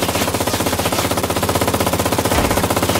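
Rapid automatic gunfire in a video game, a loud, continuous stream of evenly spaced shots hammering for several seconds with no pause.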